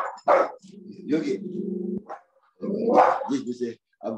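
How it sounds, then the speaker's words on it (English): A dog barks at a fox in a home garden, giving several loud, close barks in short bursts with growly tones between them. "I've got fox in the garden, so dog is barking"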